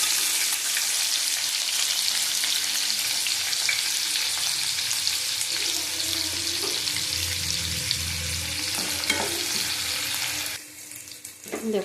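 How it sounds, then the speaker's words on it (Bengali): Onions frying in a pan with nigella seeds, garlic and chili, a loud dense sizzle that holds steady, with a few stirring knocks, then drops away near the end. "পেঁয়াজটা ভাজা হয়ে গেছে"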